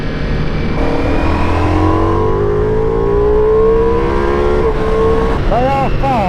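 A Ducati Multistrada motorcycle engine is revved on the throttle, its loud, close note climbing steadily in pitch and ending in quick blips.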